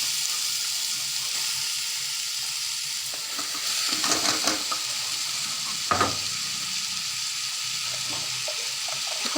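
Pumpkin pieces frying in a pan with cumin give a steady close sizzle, with louder crackling bursts and stirring scrapes partway through.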